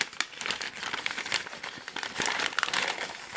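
Stiff craft paper crinkles and crumples in bursts of close, crackly rustling as a gift is unwrapped, with sharper crunches scattered throughout.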